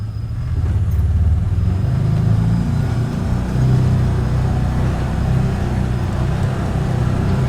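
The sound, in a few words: four-wheel drive vehicle driving through snow drifts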